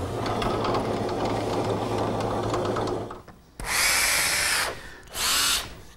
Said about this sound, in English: these holes that I'm pre-drilling and counterboring in the cleat